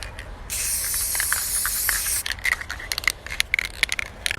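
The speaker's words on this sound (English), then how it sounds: "I spray them with this stuff." An aerosol can sprays a glossy coating onto dominoes in a box: a steady close hiss lasting under two seconds, followed by light rattling and clicking as the pieces are handled.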